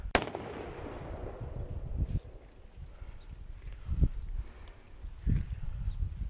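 A 6.5 Creedmoor rifle firing a 140-grain Remington Core-Lokt round at an outdoor water jug: one sharp, loud crack at the start, followed by a decaying rumble, with a few dull thumps and faint rustling afterward.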